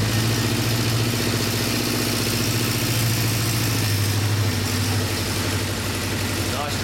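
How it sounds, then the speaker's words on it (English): A vintage vehicle's engine idles steadily just after starting, a continuous low rumble with a constant throb that holds close and loud throughout, with a voice briefly audible over it. "We'll have a listen at that engine."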